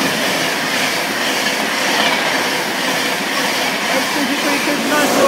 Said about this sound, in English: Pass straight through platform number one at Grantham